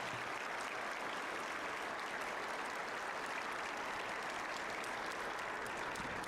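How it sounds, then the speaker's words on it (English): Sustained, even applause from a school crowd honoring Iraq and Afghanistan war veterans at a Veterans Day ceremony, a dense steady patter heard somewhat distant and soft throughout. "Let's give them a round of applause"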